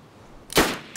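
A single loud, sharp burst of gunfire from the DayZ survival video game, nearby and abrupt, followed by a quick decaying echo, with no voices.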